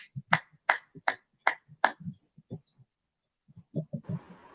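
Scattered, uneven claps from a small audience at a poetry gathering greet a young poet, Shivam Jhansi, a handful of sharp close hits that thin out and pause before a few more and a burst of noise.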